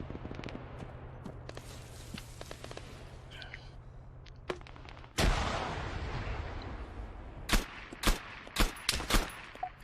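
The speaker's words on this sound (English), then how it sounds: "It's definitely helped me to survive these grenade launcher rounds going off quite close to me." Grenade launcher rounds burst nearby in the military game Arma 3, with a loud, heavy blast and sustained roar midway, followed by a quick run of four or five sharp explosions near the end.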